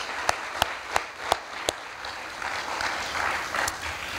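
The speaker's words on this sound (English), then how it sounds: "So let's give the committee a round of applause." An audience at the Con Hogan Award 2022 ceremony applauds the award committee. A few distinct claps open a brief, soft round of applause that spreads into a quieter wash of clapping.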